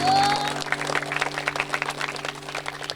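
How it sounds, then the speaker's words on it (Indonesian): Audience clapping at a school performance, steady scattered claps from a hall crowd with a tonal hum and a brief rising whistle-like tone at the start. "tepuk tangan sayang"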